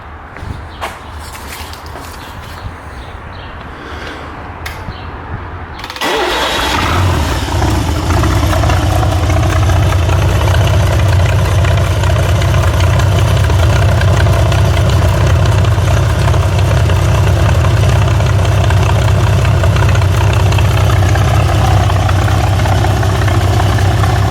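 A GMC 302 military engine with synchronized carburetors, cold, cranks and fires at about six seconds, then settles into a steady, loud, close idle with a deep rumble for the rest of the clip.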